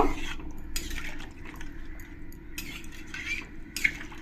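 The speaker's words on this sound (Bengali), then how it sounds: "জলটা দিয়ে ভালো করে আমি মশলার সঙ্গে ফুল আর আলু কপির সঙ্গে মিশিয়ে নেব" Cauliflower and potato are stirred with spices and water in a pan, giving continuous close scraping and wet sloshing with several sharper utensil clinks against the pan.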